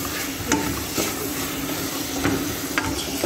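Tomatoes, capsicum and green chillies stir-fry on high heat, giving a continuous loud sizzle with a few scraping strokes of the utensil through the pan.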